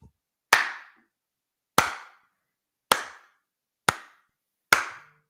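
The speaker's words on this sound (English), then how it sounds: "Applause is done." Five single hand claps, loud and close, are spaced evenly about a second apart, each sharp and isolated with silence between them.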